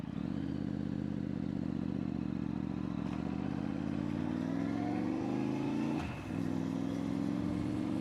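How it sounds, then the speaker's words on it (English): A motorbike engine drones steadily while riding, a loud continuous hum with a rising pitch as it accelerates and a brief dip near the end, no talk over it. "listen to the bike"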